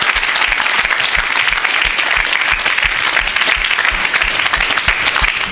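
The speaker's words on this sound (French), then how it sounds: "Est-ce qu'on peut acclamer pour Jésus ici dans ce cas?" A church congregation applauds and cheers for Jesus at an evangelistic service, a loud, steady wash of clapping hands that continues without a break.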